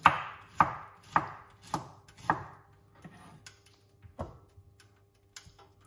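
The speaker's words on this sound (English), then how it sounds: "Let's cut up this pineapple." A knife chops through a whole pineapple in a run of sharp, evenly spaced thuds on a cutting board, about every half second at first, then thinning into softer, scattered taps near the end.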